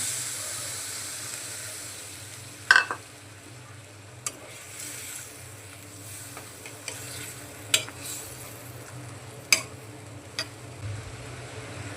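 Magur fish masala sizzling and frying in a pan with water added, giving a steady hiss broken by scattered clinks and scrapes of stirring, close and fairly loud.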